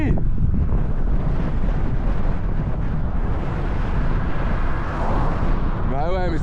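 Strong wind buffets the microphone during an electric-assist bike ride, a continuous loud roar across the whole stretch with no break.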